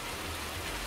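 Rain in a farming video game, a dense, even hiss of falling water that holds steady at moderate level with no other sounds.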